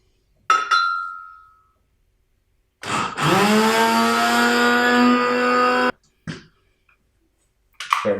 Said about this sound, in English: we're going to grind the red pepper flakes very fine in a mixer first